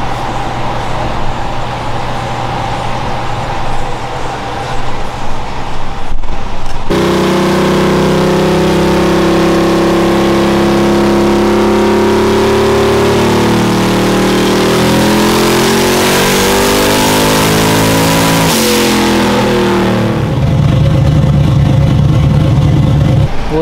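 A 1200-horsepower Chevrolet Silverado SS engine is revved on boost, its loud, sustained roar rising and falling in pitch through several pulls before it drops back toward idle.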